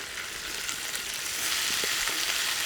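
Food frying in bacon fat in a pan, a bright crackling sizzle with a few scraping stirs, close and steady, growing slightly louder partway through.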